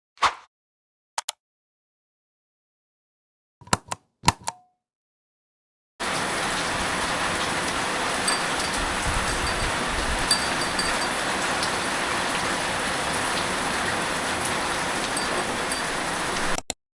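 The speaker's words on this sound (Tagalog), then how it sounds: "Kung mapapansin nyo, ang lakas ng ulan." Heavy rain in Marikina comes in as a dense, steady roar after a few short knocks and clicks, then pours without a break for about eleven seconds, loud and close with no voices.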